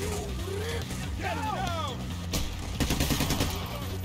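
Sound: gunfire from a gun in the video game Payday

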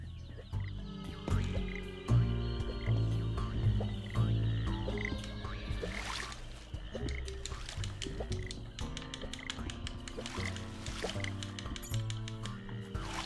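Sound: frogs croaking in swamp in Ben 10 Power Trip video game

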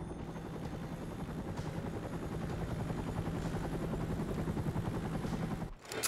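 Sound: helicopter in Stranglehold video game cutscene

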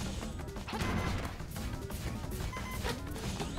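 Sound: boss pound attack smashing the ground, from the video game Zelda: Link's Awakening

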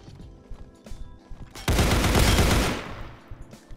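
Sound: gunshots in Counterblox video game

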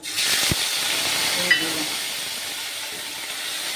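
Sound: dal tempering with cumin, dried chilli, bay leaf, ginger sizzling

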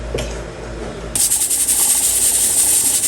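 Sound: pressure cooker hissing steam

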